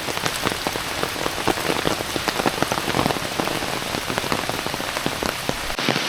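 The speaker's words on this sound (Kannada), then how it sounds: "ಕತ್ತಲೆ ಕಟ್ಟಿ ಮಳೆ ಬರ್ತಾ ಉಂಟು." Heavy rain pours steadily through a Western Ghats forest on a dark hillside, a dense, continuous hiss of drops striking leaves and ground, with no voices.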